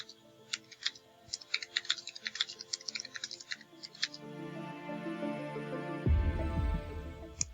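Quiet, close typing on a computer keyboard while writing a letter: an irregular run of crisp key clicks, then a muffled rustling thump near the end.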